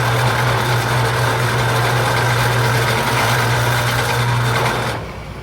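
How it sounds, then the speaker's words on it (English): A drill press bores holes in wood, giving a steady loud motor hum with a constant drone that runs throughout, then drops away at the end as it winds down. "we're back at the drill press, and we're going to drill the holes in here about 1 3/4 inch from the bottom end"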